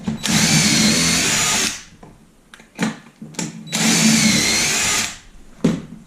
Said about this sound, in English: I'm screwing them from the bottom up with pocket holes because it's structurally stronger that way.